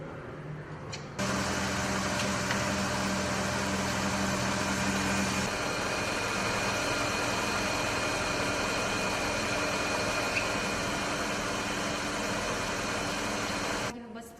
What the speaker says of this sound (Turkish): motorun çalışmasında herhangi bir arıza var mı? Yanlış bir ses geliyor mu?